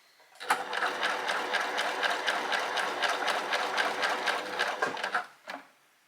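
A Babylock Primo sewing machine stitches at a quick, even rhythmic clatter for about five seconds, then stops; close and moderately quiet, with a short mechanical click after it halts.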